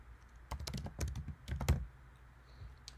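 Quick bursts of typing on a computer keyboard, soft clustered key clicks over about a second and a half, close and fairly quiet, with no talking.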